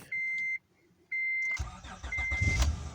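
Two electronic beeps, then the 3.2-litre engine of a 2006 Acura TL with a six-speed manual cranks and catches after sitting two weeks, settling into a steady running idle with another beep over it.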